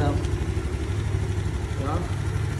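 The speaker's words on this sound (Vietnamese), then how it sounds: "Máy nó lại có cái ống hơi, nó đang nổ máy đó, nó đang nổ máy" A Honda Spacy police scooter sits idling with a steady, low engine hum throughout, while someone talks over it close by.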